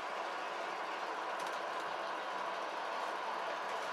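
An MTH O gauge Brill model trolley runs on a three-rail track up an incline, giving a steady, continuous rumble and whir of wheels and motor that stays even throughout, with no talk.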